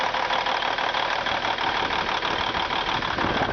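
A 1995 IHC 9300 day-cab truck's N-14 Cummins diesel idles close by, a steady loud rumble with an even rapid pulse that runs unbroken the whole time, with no voices over it.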